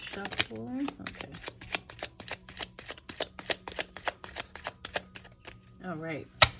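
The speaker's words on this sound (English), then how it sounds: "Okay, let's give this one more shuffle." A deck of tarot cards is shuffled in a quick run of crisp, evenly spaced riffling snaps, close and clear, with brief speech at the start and end.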